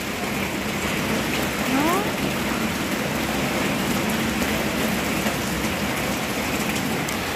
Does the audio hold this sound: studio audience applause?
no